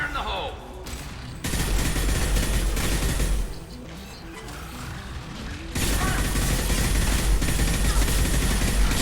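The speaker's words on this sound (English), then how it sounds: "Man, I do love this assault rifle." Assault rifle fire in Mass Effect 2 rattles in long, loud, dense bursts, breaking off briefly before resuming with mechanical clatter, and a voice speaks over the combat.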